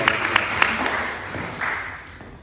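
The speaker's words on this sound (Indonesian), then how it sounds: "Beri tepuk tangan dulu yang meriah buat Tuhan kita" A Sunday church congregation gives a short burst of applause for God, a handful of distinct claps followed by a brief, softer spatter that quickly dies away.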